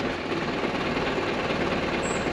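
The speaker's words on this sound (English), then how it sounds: "I've currently got my foot held down on the throttle" A Land Rover Discovery engine with a fuel fault runs with the throttle held down, a steady, close, continuous droning roar that stays level throughout with no talking.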